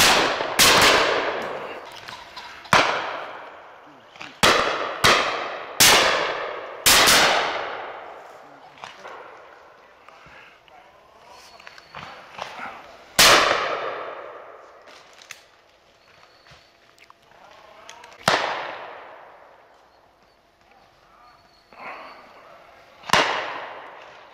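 Shotguns fire repeatedly at a pheasant and partridge shoot, a dozen or so loud sharp blasts at irregular intervals, some close and some farther off, each with a rolling outdoor echo.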